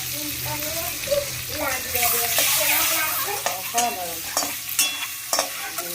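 Eggs frying in a pan alongside leftover stale mutton give a steady sizzle, with stirring and scraping knocks near the pan and a voice talking over the cooking.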